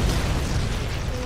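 Small-calibre ship cannon fire in the Roblox game Battleship Battle: a heavy, sustained booming blast with dense low rumble, loud and continuous.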